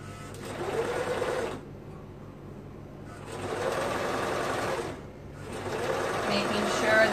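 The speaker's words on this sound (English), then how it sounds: "I'm gonna sew the lining and the shorts together at the bottom hem." A serger sews a shorts hem and its lining together in bursts of fast, whirring stitching, pausing briefly between runs, heard close and loud with no voice.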